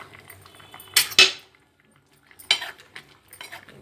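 Tomatoes are tipped into a cooking pan already holding ridge gourd and onion pieces, giving a few sharp clattering knocks and scrapes close by, separated by quiet pauses.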